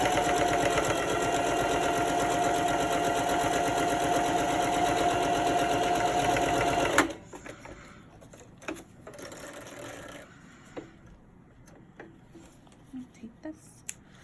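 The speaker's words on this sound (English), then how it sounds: "I'm going to start with a little back stitching." A sewing machine back stitches a reusable snack bag, a loud, fast whirring that runs steadily for about seven seconds and then stops, followed by quieter scattered handling clicks and rustles.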